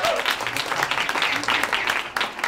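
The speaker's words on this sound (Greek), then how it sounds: "Ένα μεγάλο χειροκρότημα για τον Κώστα Μιλίβανου" Applause from a festival crowd for Kostas Milivanos, with brisk, fairly dense clapping that carries on at moderate volume for a couple of seconds, with some voices mixed in.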